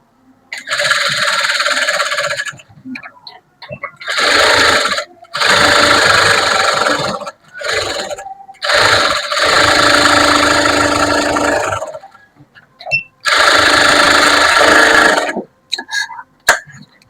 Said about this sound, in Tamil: இனி அப்படியே தான் சுத்திலும் தையல் போட்டுடலாம்.